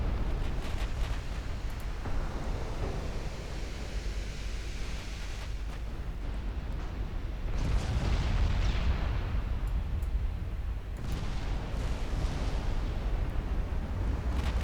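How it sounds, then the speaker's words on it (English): Naval gunfire from cruisers firing 11-inch guns in the Ultimate Admiral Dreadnought warship game, a continuous roaring wash of booms and rumbling blasts, loud and dense throughout. "Olympia is getting peppered by 11-inch fire from the cruisers."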